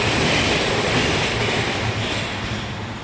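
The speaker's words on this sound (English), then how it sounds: "that's some minor train going by." A train rumbles past nearby, a loud, steady broadband roar with clattering low-end rhythm that holds for the whole stretch and eases slightly toward the end, with no talk over it.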